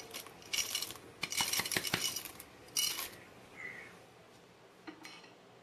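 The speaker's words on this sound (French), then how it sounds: "Rajoutez maintenant les pépites de chocolat." Chocolate chips poured into cake batter in a bowl, giving a quick cluster of small clattering ticks and clinks, then a few scattered taps before quiet.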